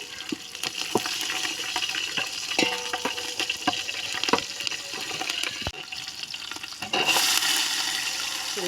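Green chillies spit and sizzle as they drop into hot oil that already holds cinnamon and cloves, with sharp crackles and clicks over a steady hiss. A brighter, louder burst of sizzling comes near the end.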